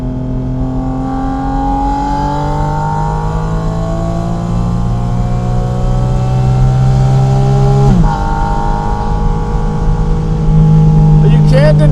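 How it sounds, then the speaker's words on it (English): A Porsche Spyder RS engine roars loudly while driving, pitch climbing steadily through the gears with a sharp shift near the middle before climbing again. Heard up close and continuous. "it just sounds so unbelievably good in this car"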